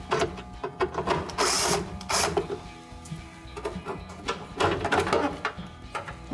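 Two screws are backed out of the lid latch of a Whirlpool washer with a T15 Torx bit, making rapid whirring and ratcheting bursts of a powered driver separated by short pauses. The sound is close and moderately loud.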